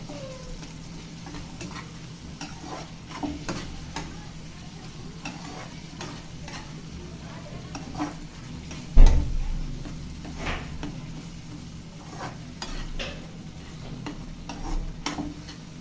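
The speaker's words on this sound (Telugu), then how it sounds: "ఇలా ఒక నిమిషం పాటు దీన్ని ఇలా వేగించారండి పచ్చివాసన రాకుండా" Eggplant chutney mixture with salt is stirred and fried in a pan, giving a steady low sizzle broken by scattered clicks and scrapes of the spoon, with one sharper knock partway through.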